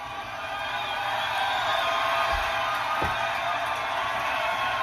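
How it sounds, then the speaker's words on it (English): A crowd roars and cheers steadily at a feel-good dance event, a broad, continuous wash of voices that stays level throughout with no pauses. "That sound right there of the crowd,"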